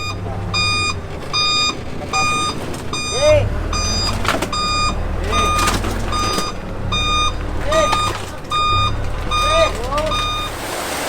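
Truck repositioning to dump into a chute at a pool build site in the Philippines, its reversing beeper sounding in a steady repeated rhythm over a low engine rumble, with voices talking and occasional clanks.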